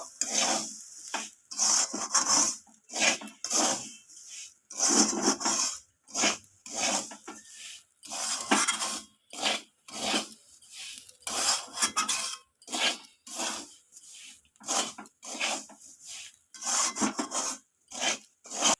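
Semolina (suji) tossed with fried ingredients in a pan for spicy suji, stirred in a steady rhythm of dry, gritty scrapes and rasps from the spoon against the pan, close and alone.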